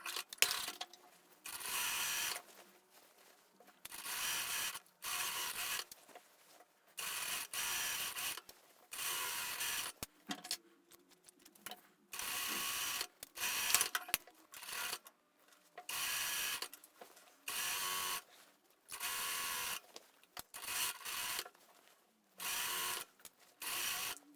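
Sewing machine stitching the seams of a mermaid dress with vertical panels, running in repeated bursts of a few seconds each separated by short pauses, close and steady, with no talking.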